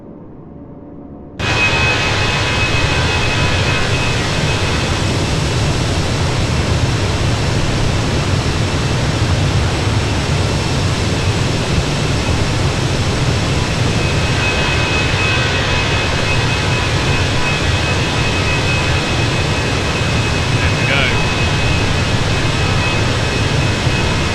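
Airbus A320 in Microsoft Flight Simulator flying back over the runway at Corfu, a loud, steady broadband engine roar that starts abruptly and holds unchanged, close and without voices.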